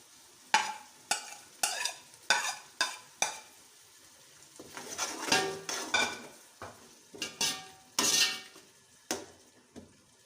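Fried onions being stirred into cooking masala for chicken pulao, a close run of sharp metal spoon knocks and scrapes against the pot over a soft sizzle, irregular and busy, with no voices.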